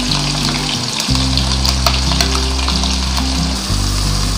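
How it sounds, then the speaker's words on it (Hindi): Finely chopped onions hit hot oil in a pan for Lahori cholay, producing a loud, close, continuous frying sizzle that holds steady throughout, with a tonal musical backing underneath. "ये देखें ऑयल गरम हो गया। अब इसमें मैं डालूंगी ये फाइन की हुई अपनी प्याज।"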